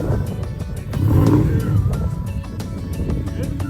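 A low car creeps up onto trailer ramps, its engine rumbling close with a brief swell of throttle, steady and loud throughout.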